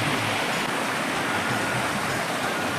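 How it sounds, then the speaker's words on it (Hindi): A village river flowing clear after a flood, a steady broadband rush of moving water filling the scene at close range, continuous and even with no pauses or voices. "सुंदरता के साथ बह रही है नदी"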